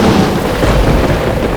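Thunder sound effect for a storm scene in a stage musical of Back to the Future, a short, loud, dense rumbling roar with no voices.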